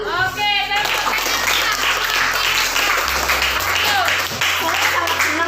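A class of students clapping together in a rhythmic group clap, fairly close and loud throughout, with children's voices calling and chattering over it.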